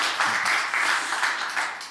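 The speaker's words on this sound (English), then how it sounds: "please give them a round of applause" Scattered, fairly close clapping from an audience at a World Economic Forum conference panel, uneven and pulsing over two seconds.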